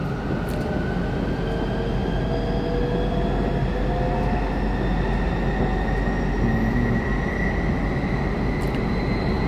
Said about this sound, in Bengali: সাড়ে 400 কিলো চলে ট্রেন, কোনো ড্রাইভার নাই, অটোমেটিক চলে।